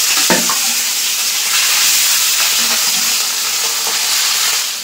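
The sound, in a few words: fish pieces frying in oil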